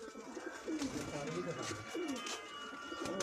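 Rooftop pigeons give soft, rolling coos in several close, repeated phrases, with a person talking quietly underneath.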